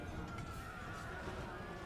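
Horses neigh and hooves pound during a cavalry charge in a video game battle, a loud whinny over a dense, continuous din of galloping and combat noise.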